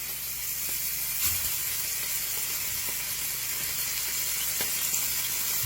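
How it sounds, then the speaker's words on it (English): Steaks sear in a smoking-hot pan with olive oil, a steady close sizzle with a few soft clinks of utensils. "you can see my pan smoking. So throw them in."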